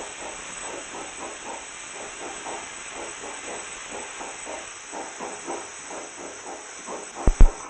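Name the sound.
pressure cooker releasing steam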